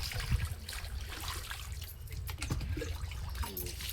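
Fish being rinsed under running water in a kitchen, a steady trickling stream splashing and dribbling continuously, close and moderately loud, with no talking.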